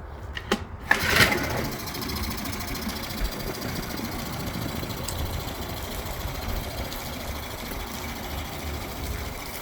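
A 1999/2000 Mercury (Yamaha-built) 9.9 hp long-shaft four-stroke outboard with a freshly rebuilt carburetor, starting with a few sharp bursts and then running at a steady, even idle, moderately close, with no talking.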